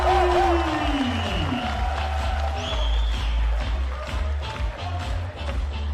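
Basketball crowd at a FIBA 3x3 World Tour event in Ulaanbaatar jeering a player, a noisy arena roar with whistles and shouts under a commentator's voice, steady and loud throughout.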